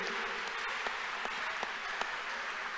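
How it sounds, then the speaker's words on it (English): A church congregation claps hands during a worship testimony, producing a steady wash of moderate clapping with a few sharper individual claps standing out at irregular moments. "Clap your hands unto God of the chosen."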